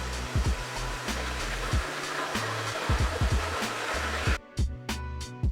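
A Pattern Beauty blow dryer runs on its highest heat and intensity setting, a loud, steady close-up whoosh of airflow that cuts out briefly a few times near the end.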